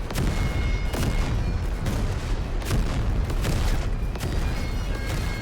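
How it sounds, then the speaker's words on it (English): Artillery barrage pounding a zombie-filled trench in the WWI game Over The Top: a steady roll of heavy booms and gunfire, sharp blasts every second or so over a dense, continuous rumble, loud and close throughout. "Here's a barrage for the zombies."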